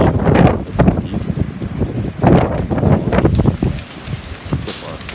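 Gusting wind during an April ice storm blows loud, buffeting the microphone in surges near a lakeside beach yard, with someone talking briefly.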